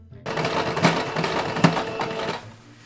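A sewing machine runs steadily while stitching a corset, with a fast, continuous mechanical whir close by. Two sharper clicks rise out of the drone before it winds down near the end.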